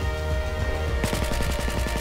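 Rapid automatic gunfire from the Operation Outbreak video game breaks out after a second of quiet background, then continues as a steady, loud run of closely spaced shots.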